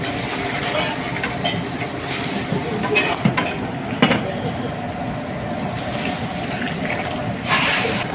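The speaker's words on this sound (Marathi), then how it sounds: "थोडं पाणी घालायचं अच्छा थोडं गरम पाणी घालायचं" Hot water poured into spiced dal with cumin in a pot at a Solapur dal-rice stall sets off a steady steamy hiss, with stirring clatter and a few sharp clinks as people talk nearby.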